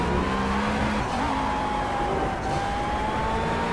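A turbocharged race car in the Project Cars video game drives at speed: a loud, constant engine roar with a thin turbo whine that slides gradually upward in pitch.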